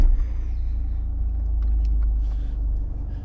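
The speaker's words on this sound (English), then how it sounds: "so if we just start the car" A Jaguar car engine starts and settles into a low, steady idling rumble, close by and moderately loud, with no one talking.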